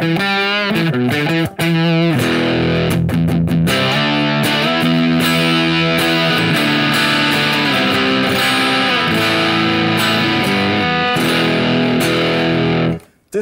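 An electric guitar played through a distortion effect rings out in sustained, heavily saturated chords and notes for over ten seconds, loud and close, with a few brief picked notes at the start and a sudden cutoff at the end.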